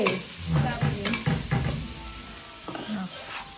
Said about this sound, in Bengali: আর এদিকে পেঁয়াজটা ভাজা ভাজা হয়ে গিয়েছে বাদামি রং হওয়ার পর